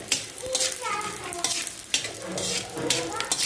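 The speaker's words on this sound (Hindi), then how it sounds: "थोड़े थोड़े ऑयल में फ्राई कर रहे हैं" Dry fruits such as makhana fry in a little oil for panjeeri, crackling and sizzling close by while a spoon stirs them in quick, uneven strokes.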